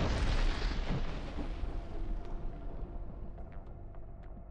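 A drone strike on a stronghold near Toretsk sets off a heavy explosion, a loud rumbling blast that opens the clip and slowly decays into fading debris rumble and faint crackles.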